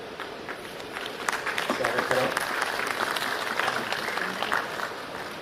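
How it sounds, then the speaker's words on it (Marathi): An audience at an association event in a theatre hall in Pune bursts into clapping, a dense, fairly distant wash of applause that builds and holds steady, with voices audible in the crowd. "आपण जोरात टाळ्या वाजवून"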